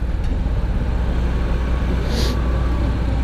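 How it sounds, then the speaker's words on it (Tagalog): Big trucks in congested city traffic near a stoplight: a loud, continuous low engine rumble and road noise from heavy vehicles close by, with a brief hiss partway through. "Lalaki mga truck mga idol oh."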